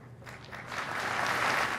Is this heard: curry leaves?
no